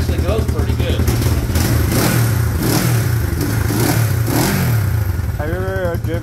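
A 1974 Honda CB450 motorcycle engine runs close and loud, its throbbing exhaust note rising and falling through repeated revs, with people talking over it.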